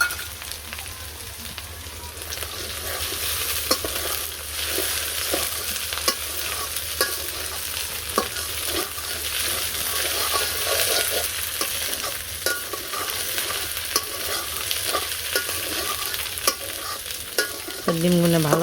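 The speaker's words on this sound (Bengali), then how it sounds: "ডিমগুলো ভালো করে ভাজা হয়ে গেলে" Fish roe mixed with turmeric and salt sizzles and crackles in a hot pan, with steady frying and repeated stirring scrapes running close and loud throughout.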